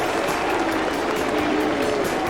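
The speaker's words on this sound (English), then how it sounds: "And the crowd's right behind him." Dense crowd noise fills a stadium at a 1993 Australian football match, a steady roar of cheering and applause with no clear breaks, loud and continuous throughout.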